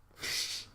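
A sudden close sneeze during a casual podcast conversation, one sharp breathy burst lasting about half a second with no talk over it.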